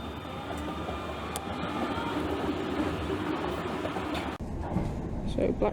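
A Thameslink Class 377 electric train rolls toward London Blackfriars, a steady interior rumble and clatter of wheels on track with a faint whine, a brief dip near the end as it runs on.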